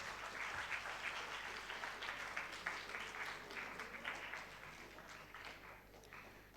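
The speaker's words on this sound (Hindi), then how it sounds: "एक बार सभी प्रतिभागियों के लिए जोरदार तालियां हो जाएं।" Audience applause for the participants of a Hindi debate competition, steady clapping from a gathered crowd that holds fairly even and slowly thins toward the end, heard at a moderate distance.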